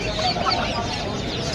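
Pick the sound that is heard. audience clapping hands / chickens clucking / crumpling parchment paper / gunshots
chickens clucking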